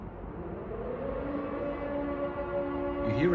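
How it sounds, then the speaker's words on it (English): A long, steady wailing air raid siren drones from a distance over Kyiv, Ukraine, its tone holding level and slowly swelling louder. "So, you hear the siren?"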